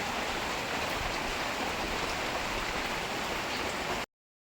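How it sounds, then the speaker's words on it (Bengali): Heavy rain drums steadily on a tin roof, a dense, loud and unbroken roar of water that continues evenly until it cuts off abruptly near the end, with no voices. "টিনের চাল সাথে বৃষ্টির শব্দ, ঝুম বৃষ্টি চলছে"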